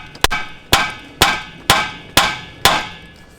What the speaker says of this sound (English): we'll come in here on the knuckle and you just give it a couple good whacks and it'll drop out